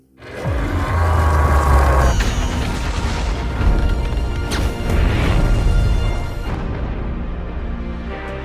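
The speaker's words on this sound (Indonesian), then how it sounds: "Essel pun meledakkan dirinya sendiri" Robot self-destructs in a cinematic explosion effect: a sudden loud blast followed by a sustained, heavy rumbling roar with crashing debris that stays dense throughout, then eases slightly near the end.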